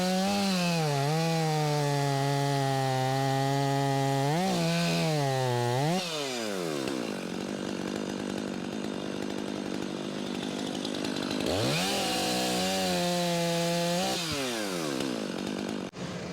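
A chainsaw trims cracks and defects off the ends of a log being prepared for a Wood-Mizer sawmill, its loud engine revving up and down in several bursts with the strain of cutting through wood between them, and no talking.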